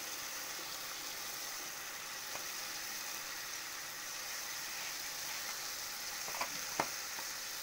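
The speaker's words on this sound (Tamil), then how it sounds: "நல்லா ஒரு 10 நிமிஷம் நல்லா கொதிக்கட்டும்." A soft, steady bubbling and sizzling from a pot of dried anchovy rasam simmering on the stove, with a few faint clicks near the end.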